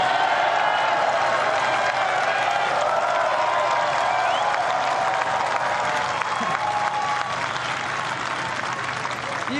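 Golf spectators at the 18th green of a professional women's tournament break into sustained, loud applause and cheering for a final-hole birdie, a dense, steady wash of clapping from a sizeable crowd with no talk over it.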